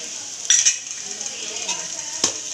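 Ground coconut paste being stirred into a frying crab curry, with a steady hiss of sizzling and a few sharp spoon knocks against the pan.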